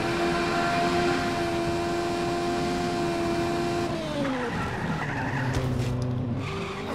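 A sports car drives in the Just Cause 3 video game, its engine a steady loud drone with a pitch drop around the middle, followed by tire skidding and squealing.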